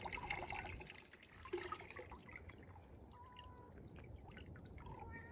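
Water drains from a cleaned wild turkey carcass and drips steadily in a faint, continuous trickle, with irregular small drops and no voices.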